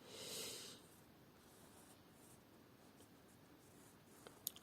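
A Jinhao 159 fountain pen filled with blue Parker ink scratches faintly across paper, very quiet and close. A soft breath comes at the start, and a few small taps land near the end.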